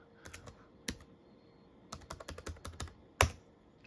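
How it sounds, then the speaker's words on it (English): Keys clack on a ThinkPad X61 laptop keyboard as a password is typed, close and fairly quiet, with scattered single presses, a quick burst of strokes, and a final harder tap. "Let me just put in my password real quick."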